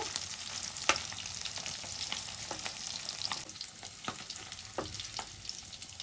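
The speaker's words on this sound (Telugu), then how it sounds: "ఎండు చేపలు అయితే ఆయిల్లో ఇలా వేపుకోవాలి." Dried fish fry in hot oil, giving a steady crackling sizzle with scattered sharp pops and occasional stirring scrapes, close and moderately quiet, with no voices.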